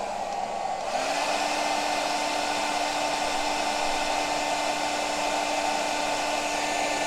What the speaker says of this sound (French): Sèche-cheveux.